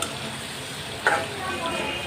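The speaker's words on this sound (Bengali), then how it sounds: "ওইদিকে মাছ ভাজা বসাই দিছি মাছটা ভাজা হচ্ছে" Rohu fish fries in oil with a constant close sizzle and crackle, broken once by a brief metallic tap partway through.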